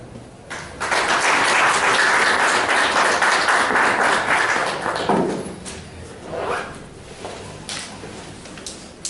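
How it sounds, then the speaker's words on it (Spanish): A lecture audience applauds to welcome a speaker: dense, loud clapping for about five seconds that thins out into a few scattered claps and fades. "tenemos que recibirlo con fuertes aplausos"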